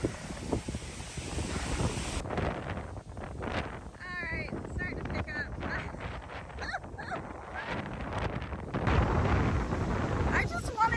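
Strong gusty wind buffets the microphone outdoors after a hurricane, roaring steadily throughout while people talk over it and a dog is faintly heard.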